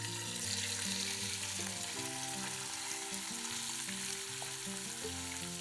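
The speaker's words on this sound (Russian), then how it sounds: "Обжариваем с одной стороны примерно 3-4 минуты." Chicken liver frying in vegetable oil in a hot pan gives a steady, dense sizzle with soft crackles, close and even throughout with no voices.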